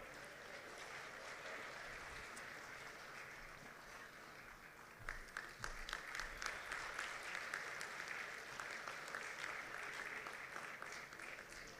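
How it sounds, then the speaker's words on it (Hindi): Steady applause from a crowd, continuous throughout and growing a little louder and denser partway through, with no talking over it. "आप सबके लिए एक बार फिर तालियां"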